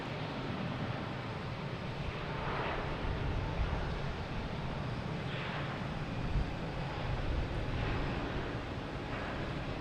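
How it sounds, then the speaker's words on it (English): A Lufthansa A380 airliner at Boston Logan Airport gives off a steady, broad jet engine roar, moderately loud and continuous, with faint rhythmic swells and no talk. "Lufthansa A380."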